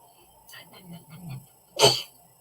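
A single sharp sneeze bursts out near the mic after a few soft, muffled vocal sounds.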